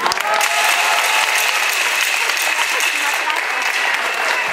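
Sustained applause from a crowd at a political campaign rally for a local deputy candidate in Puxtla, dense and loud clapping that holds steady throughout.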